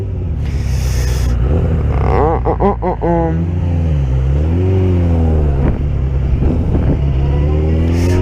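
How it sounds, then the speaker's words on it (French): A van accelerating nearby, its engine climbing in pitch through several rising sweeps before settling into a steady drone, with road and wind rumble throughout; no speech is heard over it. "la petite accélération de la camionnette"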